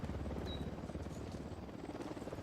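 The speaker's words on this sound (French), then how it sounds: "Sur l'hélicoptère." A helicopter in Ghost Recon Wildlands thuds with a steady, dense rotor rumble that fills the whole stretch, loud and continuous with no voices on top.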